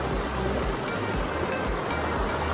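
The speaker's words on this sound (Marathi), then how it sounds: "एकदम शांतता आहे आणि फक्त पाण्याचा आवाज आहे आणि पक्ष्यांचा आवाज आहे" River water flows steadily at a resort near Pune, a continuous broad rushing wash that holds even and moderately loud from start to end.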